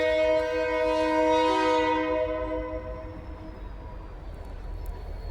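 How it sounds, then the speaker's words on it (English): A passing train near a home garden sounds a loud, sustained multi-tone horn for about two seconds, then the horn fades and a steady rail rumble continues, with no talking. "we'll wait till that train goes by."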